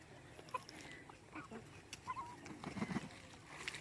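Chickens cluck softly on a Cambodian family farm, scattered short clucks and calls at some distance, quiet against a low outdoor background.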